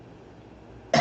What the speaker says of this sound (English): I knew you was going to start coughing on me.